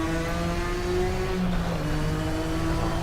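A race car engine in RaceRoom Racing Experience revs hard and steadily, with rising and falling pitch as it shifts through gears, heard loud and alone.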